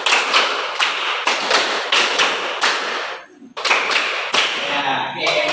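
A class claps in a quick rhythm during a classroom ice breaker: a run of sharp, close claps, a brief pause, then another burst of claps.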